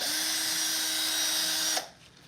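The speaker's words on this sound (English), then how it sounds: "I just want to drill something." A high-pitched power drill whirs steadily at close range for nearly two seconds, then cuts off abruptly into quiet.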